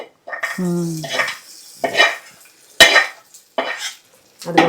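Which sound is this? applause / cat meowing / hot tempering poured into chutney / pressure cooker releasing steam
hot tempering poured into chutney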